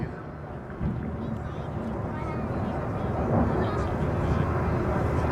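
A jet aircraft of early-1970s vintage flies overhead at a 2024 airshow, a broad, steady roar that swells slightly and blends with wind buffeting the microphone.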